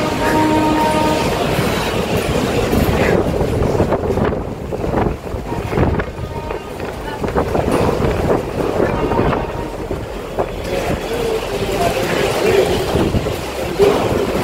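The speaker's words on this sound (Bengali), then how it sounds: "এই যে রেল স্টেশনে কিন্তু রাজধানী এক্সপ্রেস যাচ্ছে" A Rajdhani Express rushes past a railway station in rainy, windy weather, a loud sustained rumble and roar with heavy wind buffeting the microphone throughout.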